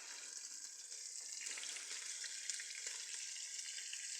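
Food fries in a small amount of hot oil with a continuous close hiss and crackle that swells slightly and holds steady throughout.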